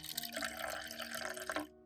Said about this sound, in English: Prepare a watering can. Pour in the fermented water.